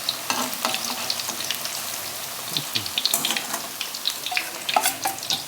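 Banana blossom coated in batter fries in hot oil, a busy close crackle and sizzle with scattered pops and occasional stirring clatter throughout.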